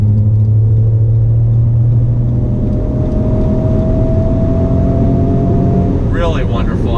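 A 2019 Ford Raptor truck's engine rumbles loudly and steadily under acceleration, a dense low roar with a rising tone, as a person talks over it toward the end.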